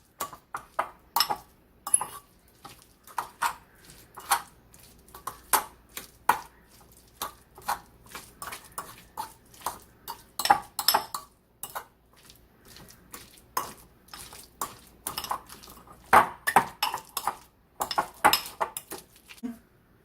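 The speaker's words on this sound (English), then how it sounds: "you're going to mix all of this together with the spreadable cheese" Chicken filling with mild cheddar and spreadable cheese gets mixed in a bowl, producing many short, close scraping and clinking strokes of a utensil against the bowl in an irregular rhythm with no talk.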